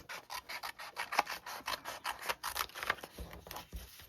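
Small scissors fussy cutting paper close up, a rapid series of crisp snips and rasps in an irregular rhythm, fairly quiet, with no talk.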